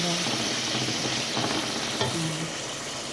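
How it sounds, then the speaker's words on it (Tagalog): Ground meat stirred and browned in a hot pan for Filipino-style spaghetti, giving a steady close sizzle with scraping stir strokes. "Yung giniling pala guys is ating papulahin o tostahin."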